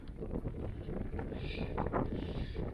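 Steady wind buffets a drone flying above an outdoor hillside, a constant rough rushing that stays close to the microphone and fairly loud throughout.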